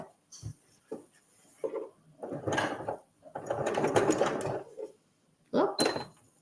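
A sewing machine stitches along a fabric edge, running in short bursts and one longer run with pauses between, close and clear, with no talking over it.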